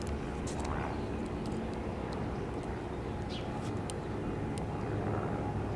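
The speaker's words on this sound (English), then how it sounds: "Well, the jet came back." A jet aircraft passes over an outdoor air museum display area in California, heard as a faint, steady distant roar with a few soft voices in the background.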